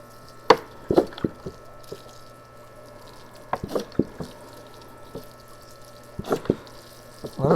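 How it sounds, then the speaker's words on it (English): Water poured over a potted Washington hawthorn tree, with scattered splashes and drips hitting soil and pot, irregular and close, no voices. "Okay, now we're going to give it some water."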